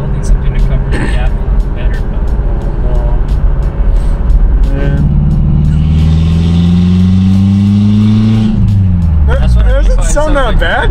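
A Toyota Tacoma with an exhaust cutout revs and accelerates with a deep, gruff, diesel-like rumble, its pitch climbing steadily before dropping off. The engine is loud and close, with voices talking over parts of it.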